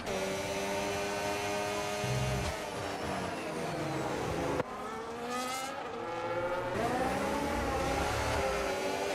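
Formula 1 car engine in a racing video game at the Japan round, revving hard and over-revving out of a corner, with a loud sustained whine that climbs in pitch, dips and climbs again as the car accelerates.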